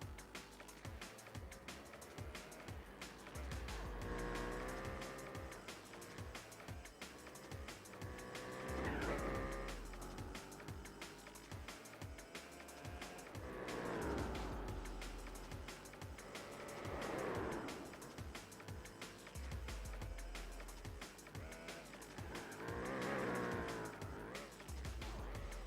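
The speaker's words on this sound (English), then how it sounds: "Ah, the sound of a R92" A Nissan R92 race car engine in Gran Turismo 4 at Suzuka wails through repeated rising revs and gear changes, with tire squeal and skids in a continuous loud stretch.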